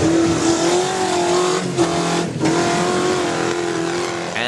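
A 4x4 off-road truck's engine roars loud and close as it powers over a tire pit obstacle at a national 4x4 challenge, its revs holding high with a couple of brief dips and surges.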